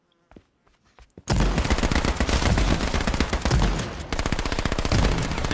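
Sustained rapid automatic gunfire in a battle royale video game, loud and close, with dense continuous bursts that start abruptly after a few quieter clicks and keep going without a pause, with no talking.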